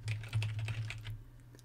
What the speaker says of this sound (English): Now if I begin typing